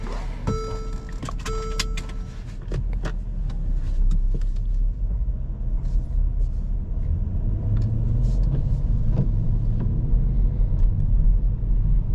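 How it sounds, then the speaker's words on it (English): A Mercedes-Benz GLS 550 SUV on the move, heard from inside the cabin as a steady low road rumble and engine hum that builds slightly, with a few clicks and faint rattles early on and no talk. "Here we go, driving the GLS 550."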